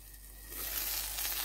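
Carrot cake layer baking in a covered pan on the stovetop, a steady soft sizzle that swells after a quiet start and holds close and even.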